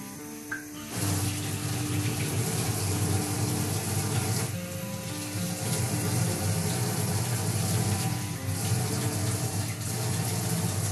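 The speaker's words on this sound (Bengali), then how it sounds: "আমি চালটা আগেই ধুয়ে রেখে দিচ্ছি।" Running tap water pouring steadily over rice being washed, a continuous close rush of water with small shifts in flow.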